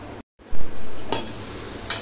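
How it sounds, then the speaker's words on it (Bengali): Dried beef curry is stirred in a pot over medium heat, with a sharp scrape, a low simmering hiss and two brief utensil clinks against the pot. "এখন নেড়ে চেড়ে আবারও ঢাকনা দিয়ে ঢেকে আবারও কিছুক্ষণ সিদ্ধ করে নিতে হবে, মানে কষিয়ে নিতে হবে।"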